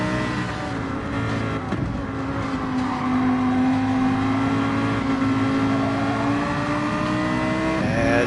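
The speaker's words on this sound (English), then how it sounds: "We got a Ferrari and Lamborghini battle going on back here." Ferrari and Lamborghini race cars battle in a racing video game at Red Bull Ring, engines droning loudly and steadily with a rising, sustained whine throughout.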